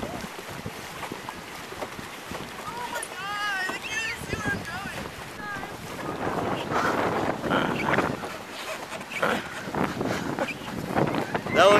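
Wind gusting over a small boat on the Chena River in Alaska, a steady rushing roar with microphone buffeting that grows stronger toward the end, while people talk excitedly over it.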